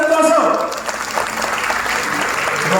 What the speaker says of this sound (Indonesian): kita beri tepuk tangan untuk Tuaso dan Tuaso